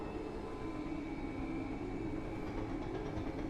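Low, steady rumble and hum of a train station in a horror game setting, with a constant drone of rail noise and a faint tonal whine, no voices.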